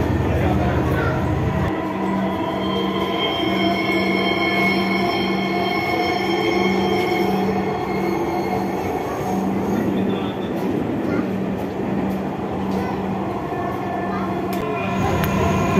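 Inside a moving metro rail train, a loud, continuous rumble of wheels and carriage runs throughout, with steady tonal whines and faint squeals layered over it.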